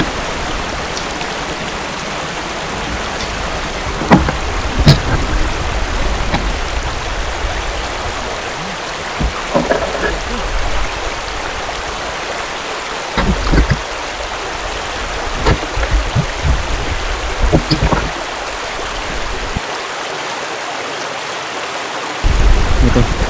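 A steady broadband rush of a strong river current fills the scene at a river crossing in Calauan, with occasional knocks and splashes close by.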